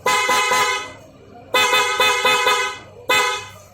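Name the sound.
Yamaha R3 motorcycle horn being tested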